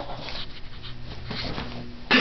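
Small black Brussels griffon dogs playing together, making soft whimpers, snuffles and panting, close by, ending in a sharper yip or bark.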